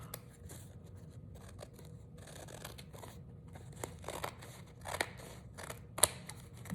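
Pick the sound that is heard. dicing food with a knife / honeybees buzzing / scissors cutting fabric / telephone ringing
scissors cutting fabric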